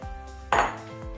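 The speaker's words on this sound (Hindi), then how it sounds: "ये देखें दाल हम इसमें डाल देंगे" Dry whole moong dal lentils tipped into a metal pressure cooker, a single bright clattering rush of grains against the pot, short and close, with faint pan clinks either side.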